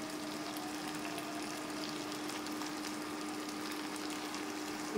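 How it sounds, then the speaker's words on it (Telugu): Onions and ginger paste fry in a pan with salt and turmeric for a fish fry, giving a soft, steady sizzle that continues evenly and fairly quietly. "వేయించుకోవాలి. కొంతసేపు వేగనివ్వాలి."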